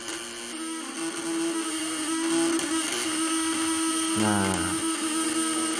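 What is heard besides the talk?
engine revving under load during power test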